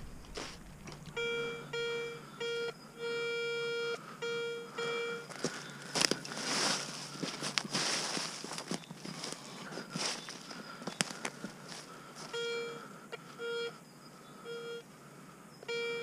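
A metal detector sounding repeated tonal beeps while someone digs outdoors, the beeps coming in short rhythmic bursts that pause in the middle as scraping and rustling take over, then resume toward the end.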